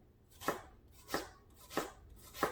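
Four evenly spaced knife chops through onion on a board, soft crunchy strikes at a steady pace, quiet and close with no voices.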